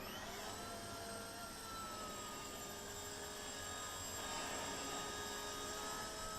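An Eachine E119 micro RC helicopter hovers indoors after a crash, its small rotor and motor giving a steady high-pitched whine that swells slightly toward the end, close and unbroken, with no talk.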